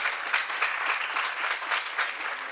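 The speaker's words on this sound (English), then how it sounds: "We'll pass on those applause to her when we get there" Steady applause from an audience at a farewell session of a network operators' meeting, a few seconds of moderately distant clapping in gentle waves, with no speech.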